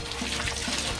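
Running water sprays steadily from a hose or tap, washing sand off bicycle wheels outdoors, a continuous close hiss and splatter over the whole short stretch.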